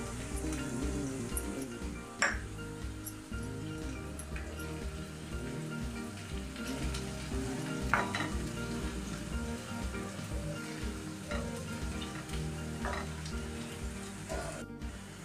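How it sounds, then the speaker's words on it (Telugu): Masala frying and being stirred in a pan for hotel-style chicken kurma, a steady close sizzle like rain with occasional louder clinks and scrapes of the spoon, no talking. "పచ్చివాసన పోయేంత వరకు వేయించుకోవాలి"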